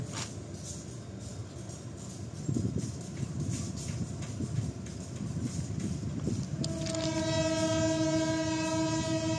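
A freight train departs a station in Indonesia, rumbling and clattering steadily nearby, then a loud sustained horn blares over the rolling noise toward the end.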